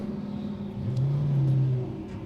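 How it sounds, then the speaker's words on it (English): GT race car engines idle and rev together on the SprintX starting grid at Canadian Tire Motorsport Park, with one smooth rising rev swelling then easing off over the low rumble of the field. "drivers, start your engines"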